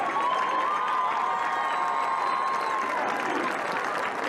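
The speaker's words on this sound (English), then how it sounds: "Please give another round of applause to our 2021 Homecoming Court" Crowd at a high school football game, Rancocas Valley at Eastern, applauding the 2021 Homecoming Court, a steady wash of clapping and cheering with a sustained tone running through, loud and unbroken throughout.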